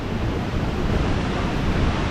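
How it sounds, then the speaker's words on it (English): Waterfalls in Oslo, Norway, heard from a bridge below as a loud, continuous broadband rush of falling water, steady and unbroken, with some wind buffeting mixed in. "the waterfalls are up there"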